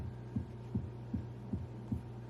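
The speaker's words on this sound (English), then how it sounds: "Sounds like a heartbeat." A deep, low heartbeat-like thump opens a song, pulsing about six times at a steady slow rhythm over a soft sustained hum.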